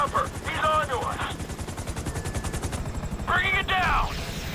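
Rapid gunfire with a helicopter's rotor chop in GTA V during a raid on the Bureau building, steady pulsing bursts under shouted voices of people talking over the action.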